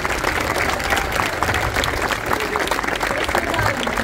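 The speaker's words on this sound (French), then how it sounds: "On peut applaudir aussi les musiciens." Audience applause for the musicians at a Saint Loup festival event in Mûr-de-Bretagne, a steady sustained clapping from a crowd with some voices mixed in throughout.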